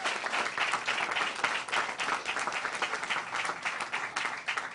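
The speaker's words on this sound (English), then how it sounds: "And I think he deserves a great round of applause." Steady round of audience applause for a Florida governor at a Clearwater event, a dense wash of many hands clapping continuously and fairly loud, no voices over it.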